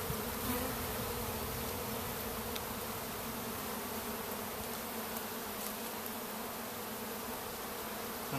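Honey bees swarm-buzz steadily from an opened hive during a Bailey comb exchange, a dense, continuous drone close by with no talking over it.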